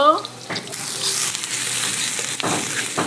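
Sliced onions frying in hot oil in a pan for a boal fish curry, a loud continuous sizzle broken by scraping stirring strokes and the clink of a spatula against the pan.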